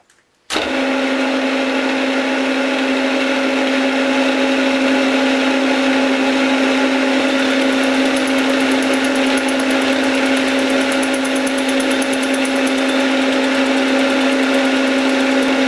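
A machine tool takes a boring pass through a welded motorcycle fork yoke: it starts abruptly and then holds a loud, steady hum with strong tonal whine, unbroken throughout.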